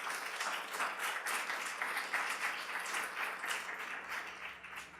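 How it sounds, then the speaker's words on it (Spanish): A church congregation applauds the Lord during a Spanish-language sermon: steady, sustained clapping from a crowd, heard fairly faint and distant without speech on top. "den un aplauso al Señor"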